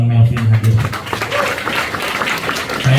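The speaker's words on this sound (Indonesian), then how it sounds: "tepuk tangan buat Bang Melvin hadir" An audience at an Indonesian civic organisation ceremony applauds to welcome Bang Melvin, with loud, busy clapping that rises and falls over a few seconds and tones sounding at the start and end.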